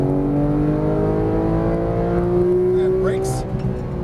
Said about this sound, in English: Squeeze that throttle, squeeze it.